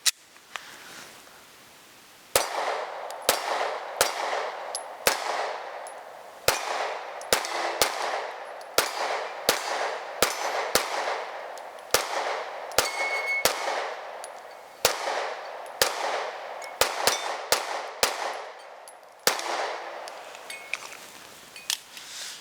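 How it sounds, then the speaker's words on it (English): Sig Sauer M18 pistol firing Fiocchi 124 grain rounds outdoors, a string of about twenty sharp reports at uneven intervals, some in quick pairs and bursts, each with a short echoing tail. "Now we're gonna run 21 rounds of our Fiocchi 124 grain"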